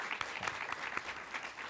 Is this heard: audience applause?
yes